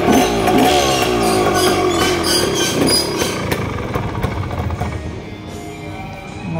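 A 1978 Yamaha DTJ 175 motorcycle engine runs close by, a buzzing, steady note that eases off slightly toward the end and settles into a rougher idle.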